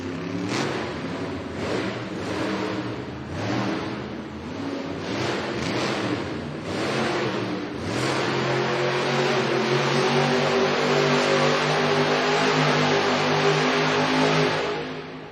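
A Monster Jam truck's engine fires back up and revs inside an arena at a Southaven, Mississippi event, giving a loud, continuous roar with rhythmic pulses early on that settles into a sustained, steady drone.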